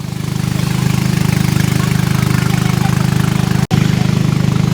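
A boat engine on a river at the India-Bangladesh border: a loud, steady, low throbbing drone, close and continuous, with one brief cut-out near the end.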